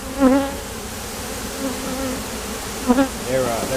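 Honey bees buzz at an over-wintered hive, a soft steady hum close by with a few louder passes as individual bees fly near, and no talk.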